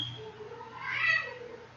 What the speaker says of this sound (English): Don't mind the cat fight in the background.